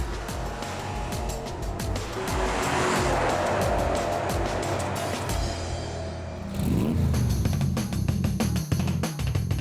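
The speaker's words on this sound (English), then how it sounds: "Here it is, the Porsche Panamera, today's classic of tomorrow." Porsche Panamera driving, its engine note loud and steady, rising and swelling as it revs, with a sharper burst of acceleration near the end, heard close without talk.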